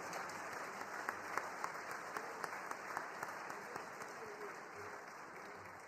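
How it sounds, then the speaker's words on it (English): Audience applause at a military skills competition awards ceremony, a steady wash of clapping with distinct individual claps popping through, moderately distant and sustained throughout. "Please give them a round of applause for their hard work and dedication"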